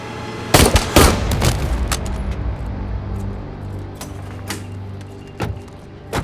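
Several sharp gunshots crack out close and loud in quick succession near the start, followed by a few more spaced, fainter shots over a lingering reverberant rumble during a police confrontation.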